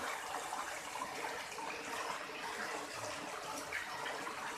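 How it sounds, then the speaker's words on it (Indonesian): Water spills steadily over the edge of a swimming pool, a continuous even splashing and rushing at moderate distance with no pauses. "Kakak nungguin airnya tumpah."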